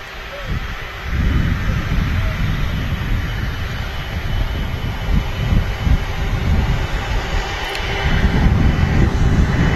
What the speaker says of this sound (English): I think we've got another Virgin Atlantic 330 on the taxi out as well.